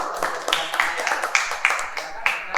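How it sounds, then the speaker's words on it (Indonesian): A small group claps for the first student group in an Indonesian classroom, with sharp irregular hand claps over the full stretch and a faint voice underneath. "kita beri tepuk tangan untuk kelompok 1"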